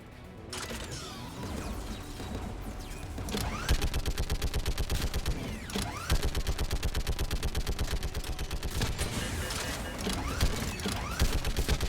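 Sustained turret gunfire in the sci-fi shooter Mass Effect 3: rapid, evenly spaced automatic shots in long loud bursts, separated by brief pauses, with busy battle noise underneath and no talking.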